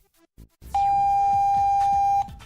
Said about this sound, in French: Le clavier émet un bip.